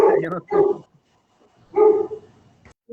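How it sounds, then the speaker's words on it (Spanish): Dogs bark in several short bursts, a quick pair and then a later single bark, close and loud with brief quiet gaps between. "No, son perros."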